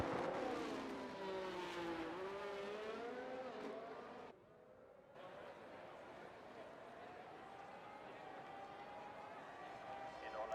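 An F1 race car in the F1 2023 video game, at the Mexico round, crosses the finish line: a loud, sustained high engine whine sweeps and shifts pitch, briefly drops out, then resumes more steadily.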